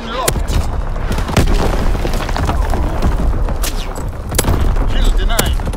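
Artillery strike in Call of Duty WWII: a continuous loud barrage of booming explosions with sharp cracks scattered throughout, dense and close, with no pause.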